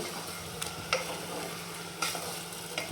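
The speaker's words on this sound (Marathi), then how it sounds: "आपण आता ह्याला थोडंसं तेलामध्ये हे करून घेऊ आपण थोडंसं शिजवून घेऊ" Broiler chicken fries in oil in a pot with a steady close sizzle, broken by a few sharp scrapes from stirring, and no talk.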